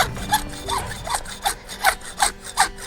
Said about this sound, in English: My hacksaw will not cut straight.